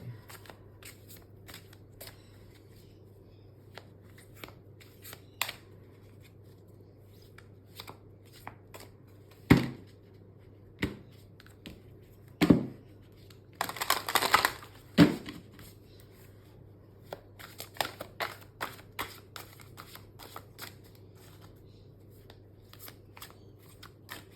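Tarot-style cards are cut and shuffled for a psychic reading, with soft riffling bursts and sharp card snaps scattered over a quiet room hum, close and intermittent.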